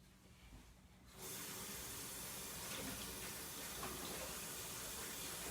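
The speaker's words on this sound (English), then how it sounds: "I'm just gonna heat my rotini up just a little bit under hot" Hot tap water gushes suddenly over pre-cooked rotini pasta, starting after a quiet moment and then running as a steady, close, continuous splashing stream without talk.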